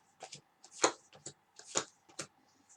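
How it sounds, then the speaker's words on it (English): Tarot cards being shuffled by hand in a quiet room, a series of crisp riffling bursts and soft taps spaced irregularly, close and fairly faint. "That all seems to be shuffling quite nicely."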